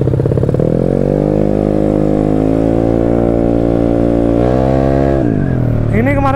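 A Yamaha Mio scooter bored to 200cc and tuned to 25 HP drones loudly and close on a test ride through dense traffic, harmonics holding steady, then dipping and rising with throttle changes near the end.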